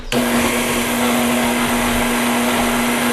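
An electric mixer whirs loudly and steadily through Boston brown bread batter, a close, continuous motor drone with a strong hum from start to finish.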